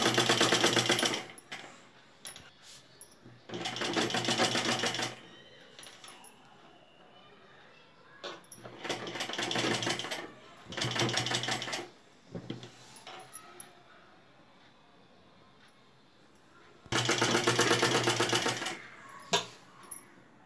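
Sewing machine stitching along a collar neckline on a garment with buckram, in bursts of a few seconds separated by pauses, with someone talking between the runs.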